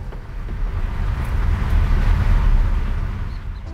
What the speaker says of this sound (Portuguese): O único barulho que vocês vão ouvir é a roda girando no chão.